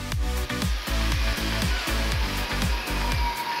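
A power saw blade cuts through thick wooden table legs in close, loud passes, its steady high whine broken by a regular series of strong, rhythmic chopping pulses as the wood is fed through.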